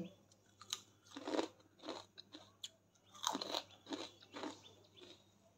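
Crispy kurkuri snacks made from rice flour crunch between the teeth, several loud distinct bites and chews in an uneven rhythm, heard up close in a quiet kitchen with a low steady hum behind.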